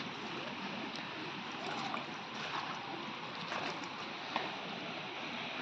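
Irrigation water runs along a channel beside a vegetable patch, a soft continuous rushing and gurgling that is quiet and steady, with faint small splashes and no talking.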